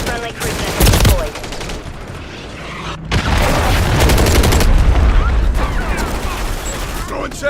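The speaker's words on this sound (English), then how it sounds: "Friendly cruise missile deployed." A cruise missile strike in a war video game lands as a dense, heavy barrage of booms and rapid gunfire-like blasts, loud and continuous, with a brief lull before a sustained rumbling wave of explosions.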